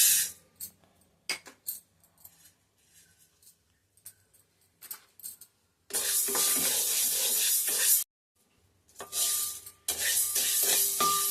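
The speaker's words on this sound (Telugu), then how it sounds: "ఇప్పుడు ఈ పొట్టు మినుములను వేయించుకుందాం" Dry black gram with husk (urad dal) is roasted in a pan, giving bursts of loud rattling and scraping as the lentils are stirred, separated by short gaps and softer scattered clicks, close by with no talk.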